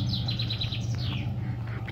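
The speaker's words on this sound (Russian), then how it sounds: "Птички как поют." Small birds sing outdoors by a river, rapid repeated high chirps in a short trill over a low steady background rumble.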